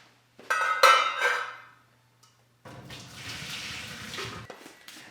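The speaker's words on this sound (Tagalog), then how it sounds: "tatanggalin lang natin yung tubig" Water pours off boiled, softened potatoes into a sink, a loud splashing gush that fades, then after a brief pause a steadier, softer running drain continues.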